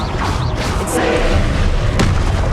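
Incendio fire spell cast in Hogwarts Legacy, a loud whooshing burst with a sharp crackle near the end over a dense, booming game soundscape.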